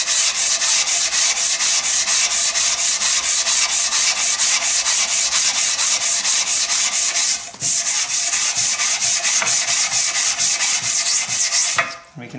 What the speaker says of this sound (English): just going to start by sliding this over across some 120 grit sandpaper